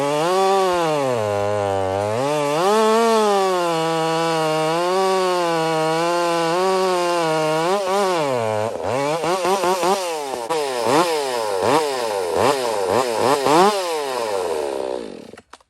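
Two modified chainsaws, a STIHL MS362c and a McCulloch Pro Mac 850, cut through large logs, loud and close: steady high-revving engine whine, then bogging and surging under load as the chain bites, with repeated rev swings toward the end.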